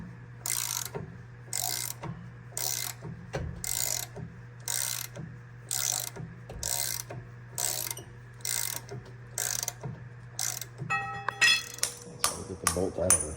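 A ratchet wrench works a seized, rusty brake caliper bolt loose on a Prevost bus, giving a steady series of loud clicking ratchet strokes, then rapid faster cranking at the end over a low hum, with someone speaking.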